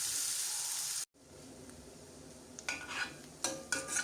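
Sliced onions with turmeric being stir-fried in a pan for capsicum curry, a faint hiss that breaks off, then soft spatula scrapes and light clinks on the pan growing toward the end.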